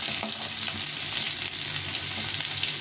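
Potato and bitter gourd fry in a pan with a loud, dense, unbroken sizzle and crackle, close up, with light stirring beneath and no voices.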